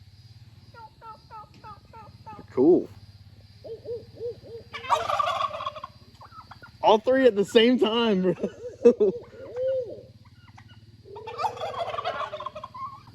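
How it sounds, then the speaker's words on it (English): Several turkeys gobble in a rural yard, with loud nearby rattling calls and softer clucks and yelps between them, over a low engine hum and a brief spoken comment. "These doggone turkeys, man."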